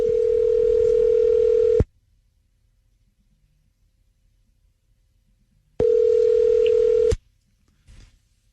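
A telephone call ringing out, two long electronic ring tones separated by a silent gap, clean and close, with a faint brief noise after the second ring.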